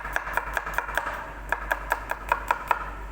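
A knife chops garlic cloves on a cutting board, about a dozen crisp, evenly spaced taps close by with a short pause midway, no talking.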